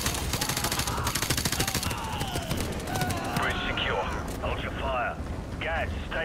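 Gunfire in the video game Call of Duty: Modern Warfare Remastered, during the ship mission Crew Expendable: loud, dense rapid bursts of automatic fire and sharp cracks that fade into scattered shots, with voices talking over them.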